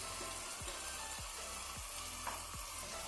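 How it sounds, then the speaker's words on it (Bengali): Ginger garlic paste spluttering in a pan gives a faint, steady frying hiss throughout, with a low rhythmic pulse repeating roughly every half second underneath. "আদা রসুন পেস্ট দিলাম দেড় চামচ"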